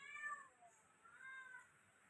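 A cat gives two soft, faint meows in quick succession, close by in a quiet setting.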